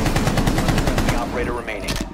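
Rapid automatic gunfire from a Rainbow Six Siege match rattles in a dense, loud burst of shots close up, then fades into softer game sounds.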